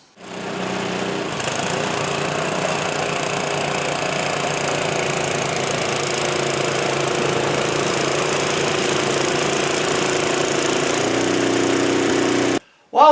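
A snow blower engine runs after its belt has been replaced, a loud, steady close-up motor drone that starts up, holds for about eleven seconds, then cuts off abruptly near the end.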